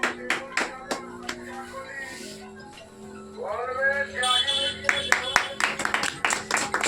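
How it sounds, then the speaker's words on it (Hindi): An audience claps at an honoring ceremony for a local youth official. The claps come in scattered bursts, sparse at first and thicker near the end, over ongoing voices and tonal background sound. "ताली बजाइए।"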